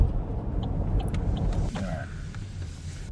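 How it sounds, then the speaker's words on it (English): A GM electric car drives and takes turns, heard from inside as a steady low road rumble and tire noise with faint creaks, and no engine note. "The car takes the turns pretty well."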